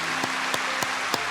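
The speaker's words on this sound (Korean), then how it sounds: "우리 따뜻한 박수로 환영하겠습니다" Warm applause fills a Korean church service as newcomers are welcomed, a dense, steady wash of many clapping hands with a few sharper accents, heard on its own without speech.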